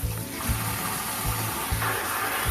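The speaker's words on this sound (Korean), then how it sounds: "흐르는 물에 이렇게 한 장씩 한 장씩 씻으면" Perilla leaves rinsed one by one under a running tap for perilla leaf kimchi, a steady close stream of water with soft splashes and low rhythmic gurgling.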